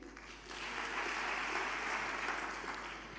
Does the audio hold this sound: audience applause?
yes